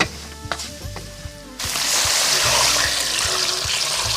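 Stir-fried lamb offal is tossed with a few light clacks and taps, then water goes into the hot pan and sets off a sudden loud, sustained hissing and bubbling sizzle close by.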